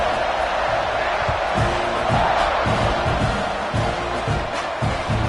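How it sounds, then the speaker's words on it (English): Football stadium crowd buzzing after a score at a Texas A&M versus USC game, a dense, steady roar of many voices with scattered shouts and no clear speech above it. "this crowd is buzzing after that last score"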